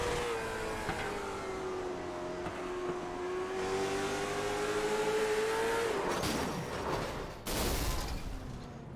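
A race car engine at a speedway whines at a steady pitch, then its blower blows up in a rough burst and sharp crackling bangs, heard at a distance.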